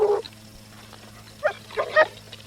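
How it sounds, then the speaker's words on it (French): Dogs bark at night, with a single yelp followed by a few quick barks from a distance, faint over a quiet background hum. "Les chiens sentent sa présence."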